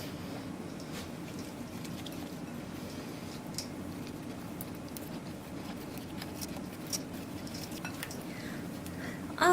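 A half tablespoon measure swirled through a gold facial mask mixture, soft wet squishing and faint metallic scrapes against a bowl, quiet and steady with small clicks, no talking.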